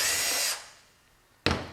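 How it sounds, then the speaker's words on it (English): A power drill match-drilling parts of a Van's RV-12 aircraft fuselage kit whirs loudly for about half a second, goes quiet, then starts again in a sharp burst, close up. "looking for the lines through the holes, and match drilling and clecoing as we go."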